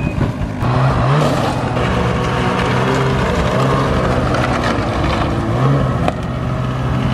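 A new snowmobile engine drones loud and steady at close range during a joy ride over thin, patchy snow with grass showing, with slight pitch shifts as the throttle varies.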